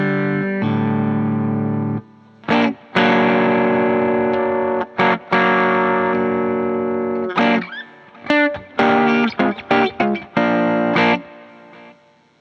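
A Telecaster electric guitar runs through distortion and effects, ringing out long sustained chords followed by choppy bursts of strummed and picked notes, loud and close with brief gaps of silence and no voices.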